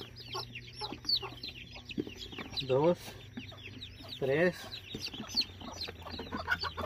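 A hen clucks repeatedly in a farmyard coop, the short rhythmic calls running throughout alongside chirps and two louder squawking bursts, while a person counts aloud nearby.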